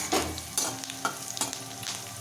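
Veg Manchurian mixture frying in oil over a low flame, with a steady soft sizzle broken by a few sharp scraping stirs of a spoon in the pan, close and alone.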